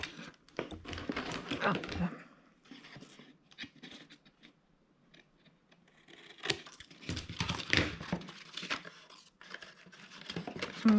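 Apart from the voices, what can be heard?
cutting paper for a handmade binder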